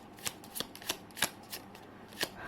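Lenormand cards are shuffled and drawn with crisp riffling snaps that come in quick rhythmic strokes, close and clear with no talking.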